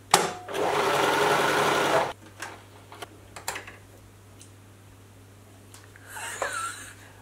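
A home sewing machine runs in a steady, close whir for about two seconds, then stops, followed by light clicks and ticks of the mechanism and faint handling sounds.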